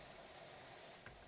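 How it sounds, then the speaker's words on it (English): Steady broadband hiss of a neighbour's pressure washer spray gun running continuously outdoors, fairly faint and distant, with no voices over it. "like a power wash gun"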